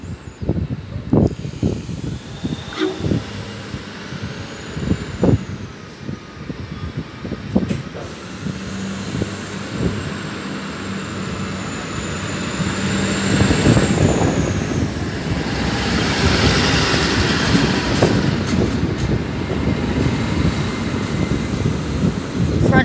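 An NSW TrainLink Endeavour passenger train, a two-car set bound for Bomaderry, departs Kiama station with a low rumble that swells steadily as it pulls away, mixed with clanks and voices on the platform.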